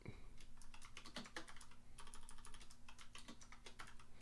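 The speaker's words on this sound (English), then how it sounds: "I have to type" Fingers tap quickly across a computer keyboard in irregular bursts with brief pauses, quiet and close, with no talking.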